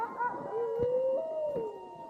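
Sled dogs howl before a race, with harnesses on and sleds anchored: a sustained, wavering howl that rises and falls over two seconds, fairly faint, with other voices joining briefly and no talking.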